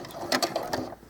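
A home sewing machine reverses and then runs forward to anchor the thread at the end of a seam on doll clothes, giving a short, close run of quick mechanical clicking and whirring pulses.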